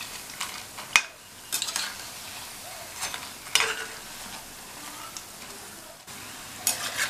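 Moong dal and potato pakoras frying in oil over medium flame while being lightly turned, a soft steady sizzle punctuated by clinks and scrapes of a utensil against the pan, close and fairly quiet, no voices.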